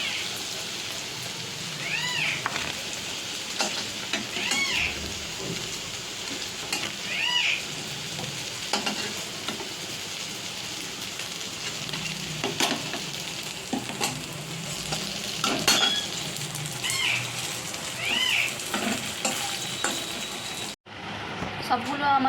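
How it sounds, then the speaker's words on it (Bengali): Semolina and potato snacks fry in a pan with a steady, close sizzle and crackle, softly bubbling for the whole stretch, with faint stirring touches and no talk. "সবগুলো ভেজে নিচ্ছি আমি, যেগুলো বাকি রয়েছে কটা।"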